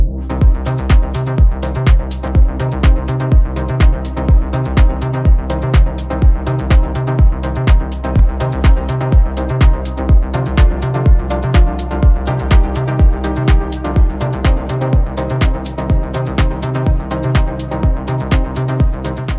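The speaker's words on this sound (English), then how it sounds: "what you're hearing now is a track that's in production" Unmixed house/techno track in production, played through an SPL Vitalizer Mk3-T, a loud, steady four-on-the-floor kick with dense hats and synths pulsing evenly throughout, no voices.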